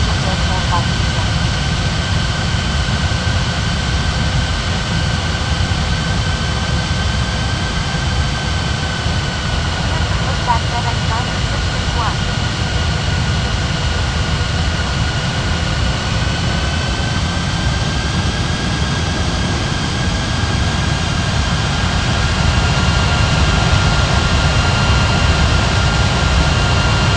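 Airliner jet engines roar steadily during takeoff in an air traffic control video game, a loud continuous rumble with a high whine, while radio-style voices talk intermittently over it.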